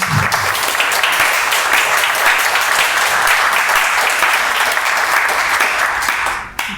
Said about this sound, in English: Can we give our panelists and awardee a big round of applause?